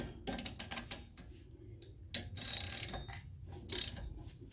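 A ratchet snugs up rear wheel bearing hub bolts on a Ford Mondeo Mk3, giving short bursts of close, rapid clicking separated by pauses.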